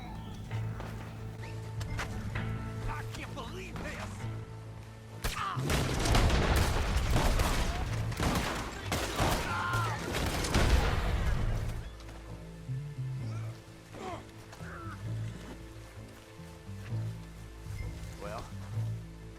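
Gunfire in the Red Dead Online western game during a five-star Legendary Bounty against the Owlhoot Family, a dense volley of rapid overlapping shots for several seconds amid a steady game background, with sparser scattered shots before and after.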